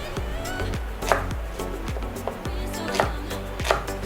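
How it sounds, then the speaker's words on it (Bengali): A knife roughly chops onions on a cutting board in quick, regular strokes, each thud close and distinct, with a few sharper knocks standing out. "আমরা পেঁয়াজটাকে একটু রাফলি কেটে নিই।"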